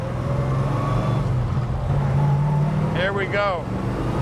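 A 1970 Plymouth Road Runner engine runs with a steady, throaty low rumble and a smooth rise in pitch as it revs, while someone talks briefly near the end.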